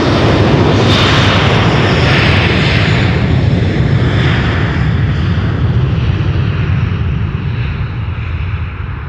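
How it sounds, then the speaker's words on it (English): A 28-year-old Saudia Cargo Boeing 747-400 freighter roars on takeoff, a loud, sustained broadband engine rumble that slowly eases as it climbs away. "Saudia Cargo is now going into the air"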